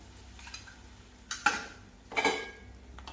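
A spoon stirring masala powder and ginger paste into a pot of pepper rasam, giving a few soft scrapes and two brief metallic clinks against the vessel, close and fairly quiet.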